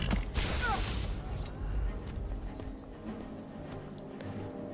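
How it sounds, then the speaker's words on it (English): A horse in a video game clops its hooves and gives a brief neigh, fairly close and loud at first, then fading under creaking mechanical game sounds. "Get out of the way, you stupid horse."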